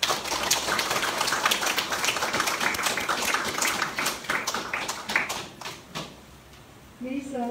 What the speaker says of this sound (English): Let us now welcome our newly professed sisters by giving them a round of applause